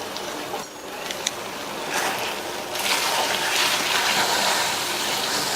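Water gushes and splashes as a kitchen mixer jar is rinsed out with a little water, a steady close-up wash that swells partway through and runs on alone without any talk.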